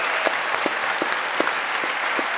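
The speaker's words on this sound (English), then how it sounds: "Zach has been clapping because he went to Stanford" Audience applause at the All-In Summit 2024 conference, a steady wash of clapping with a few sharper individual claps standing out, continuous and fairly even in level.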